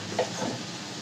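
Cabbage and prawn curry with chili powder stirred in a pan, a soft, close scraping swirl over a continuous low sizzle, brief and without speech.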